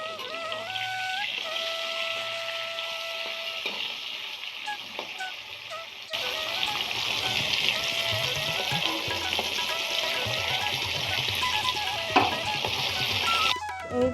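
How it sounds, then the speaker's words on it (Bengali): Flat beans (shim) coated in salt and turmeric sizzle and spatter steadily in hot oil, with occasional stirring scrapes and clinks, a continuous close frying hiss without talk. "আগে শিমগুলোতে নুন আর হলুদ মাখিয়ে ভেজে নিতে হবে।"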